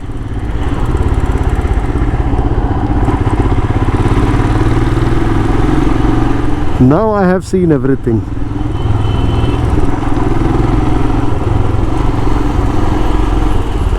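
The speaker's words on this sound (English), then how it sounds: "then there's a motorcycle in there as well" A Hero Honda motorcycle engine runs continuously close by on a busy road, a loud steady drone with a passing horn-like tone midway, while someone talks over it.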